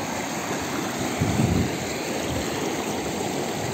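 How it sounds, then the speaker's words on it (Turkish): A stream tumbling over rocks in small waterfall-like cascades at a campsite, a steady close rushing wash of water, briefly louder midway, with no voices. "Hani su sesi şöyle böyle çağlayan tarzında oluşumlar var burada."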